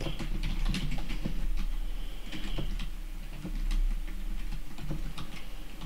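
Computer keyboard typing, steady rapid key clicks in a continuous run with faint background hum, no voices.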